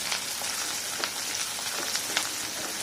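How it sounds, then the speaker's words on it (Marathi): Chopped onion frying in two spoons of oil in a home kitchen pan, a steady close crackling sizzle with scattered small pops, continuous throughout without speech. "दोन चमचे तेलामध्ये आपण कट करून तयार केलेला कांदा हा छान गुलाबी रंगाला एक फ्राय करून घ्यायचा"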